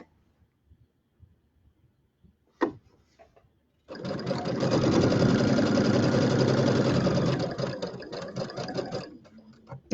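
Sewing machine stitching a quilt border, a brief click and then a steady, fast, close mechanical whir running for about six seconds before stopping.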